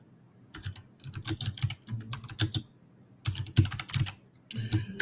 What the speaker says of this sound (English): So I'll actually go ahead and type that in here.